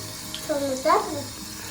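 Hot water runs from a household tap as a gas boiler starts heating after a power outage, a close, steady stream with a brief voice cutting in partway through.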